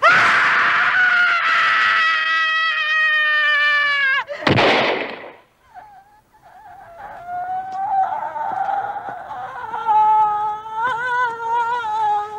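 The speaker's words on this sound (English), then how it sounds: "Scream." A person lets out a long, loud, high-pitched scream at close range that breaks off suddenly with a harsh burst, followed by a second, wavering scream that builds and rises in intensity.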